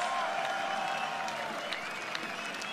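At a metal concert at Wacken, a large open-air crowd roars and applauds for a fan on stage, a steady distant wash of cheering with scattered whistles and shouts.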